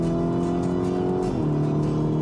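A Lamborghini Urus S sports SUV engine drones loudly and steadily as it accelerates, its pitch holding and then shifting lower as it runs close up.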